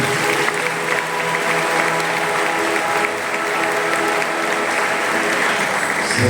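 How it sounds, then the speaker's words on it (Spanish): A congregation at a Christmas-season aguinaldo Mass claps in a steady, full round of applause for parishioners' birthdays, sustained and fairly loud throughout with no talking over it. "Para ellos un aplauso en el día de su cumpleaños."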